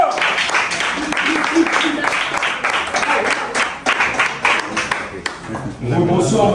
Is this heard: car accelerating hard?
no